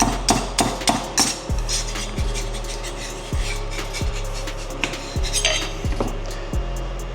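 Scraping and clinking of metal tools on a hot rod surface during a Holley carburetor install, a series of sharp taps and scratchy scrapes at close range over a steady low hum, with no talk.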